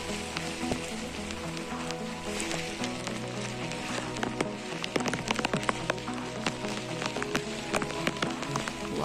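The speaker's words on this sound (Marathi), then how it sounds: "आता तर मोठाच पाऊस पडायला लागलाय." Heavy monsoon rain pours steadily during a trek up Koraigad fort in Maharashtra, a dense close hiss with scattered sharp drop taps and splashes, strengthening toward the end.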